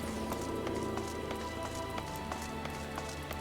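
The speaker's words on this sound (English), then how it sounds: "Oh, it's raining." Rain falls in the Final Fantasy XIV video game, a continuous patter of drops on the ground with light, scattered taps over a soft background hum and music.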